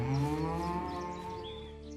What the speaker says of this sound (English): That's a fine cow you have there.